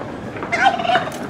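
A domestic turkey in a rural backyard lets out a loud, close gobble, a rapid warbling burst lasting about half a second and standing alone with no talk over it.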